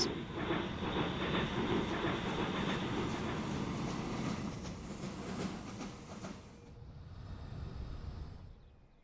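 Trains running in Transport Fever 2 give a steady rolling rumble with a rhythmic clickety-clack and hiss, loud throughout, easing off after about six seconds.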